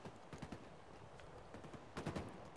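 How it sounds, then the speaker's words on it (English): Gunfire in the video game Halo comes from behind, heard as faint, distant bursts of rapid shots with a denser cluster near the end, quiet and with no one speaking. "somebody's shooting from behind us"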